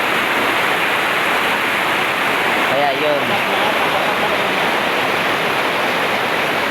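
Water pours steadily from a pipe and overflows, giving a loud continuous rushing wash close by, with a brief spoken phrase partly lost under it.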